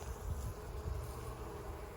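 Honeybees buzzing around a spring colony's hive opened for inspection, a steady low, faint drone with no talk.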